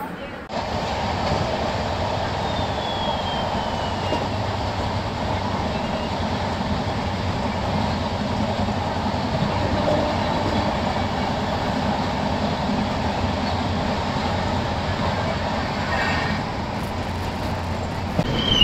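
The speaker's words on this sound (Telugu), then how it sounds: "చూసారండి ఎంత స్పీడ్ వెళ్తుందో బండి" Visakhapatnam–Kirandul passenger train running at speed, a loud continuous rumble and rush of wheels and wind heard from aboard, steady throughout with a faint rattle near the end.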